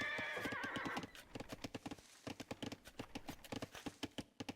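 In a video game match, a horse whinnies loudly at the start, then rapid hoofbeats clatter in a quick galloping rhythm, several cavalry scout horses running close by with no talk.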